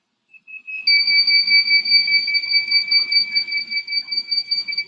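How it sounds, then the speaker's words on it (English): A small electronic buzzer wired to pin 5 of a microcontroller alongside an LED gives a steady, shrill two-tone electronic whine. It starts with a brief chirp and then holds continuously, close and fairly loud, with faint room noise beneath it. "Now I have buzzer connected to LED as well as the pin number 5 is connected to buzzer as well as LED."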